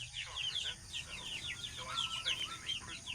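A small flock of young chickens, roosters and hens about fifty days old, give soft high clucks and chirps in a busy overlapping chatter at close range.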